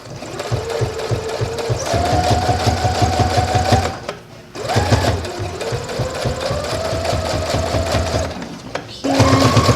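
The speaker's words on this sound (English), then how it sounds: "I'm still not used to this sewing machine. So I'm gonna, let me see, I'm on straight stitch." A sewing machine running a straight stitch, its needle chattering in a steady fast rhythm close up, pausing briefly about midway and again near the end before resuming.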